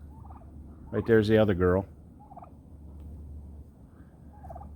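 Turkeys gobble on a farm where meat birds are kept, one loud rippling burst near the start followed by fainter calls from farther off, with a brief spoken phrase over a low steady hum.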